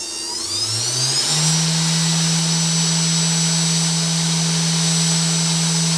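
A 3040 CNC router spindle spins up from rest, its steady tone rising over about a second, then holds a loud, smooth, even whine alone at high speed.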